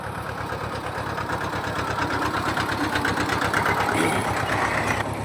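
A very small farm tractor's engine idles close by in steady, even chugging that holds the whole time before field beds are ploughed on a village farm, with no talk over it.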